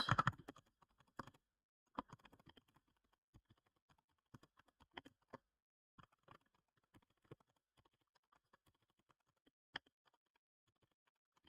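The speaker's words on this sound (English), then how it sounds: "my typing's even worse than it normally is" Someone types on a computer keyboard, producing sparse, quiet clicks in short irregular bursts with gaps of near silence, close but faint.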